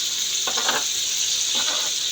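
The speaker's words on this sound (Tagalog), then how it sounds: "Prito po natin yung bangus muna saglit." Milkfish (bangus) frying in a pan, a steady high sizzle with two brief louder crackling bursts of oil spatter, close up and without voices.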